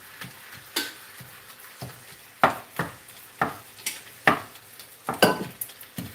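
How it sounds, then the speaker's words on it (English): Beef sautéing in a pan for a Mexican lasagna casserole: a soft sizzle runs under repeated sharp scrapes and clinks of a utensil stirring against the pan, close and fairly loud, with no talking. "We're just sauteing the beef here."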